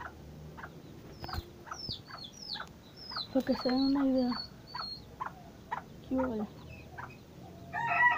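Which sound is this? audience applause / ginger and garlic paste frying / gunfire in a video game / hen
hen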